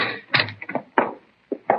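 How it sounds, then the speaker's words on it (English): Door effect for a 1952 radio crime drama: a key rattles in a lock, the latch clunks and the door swings open, with several distinct knocks and thumps in a quiet room and no voices. "The manager unlocked the door, and we went in."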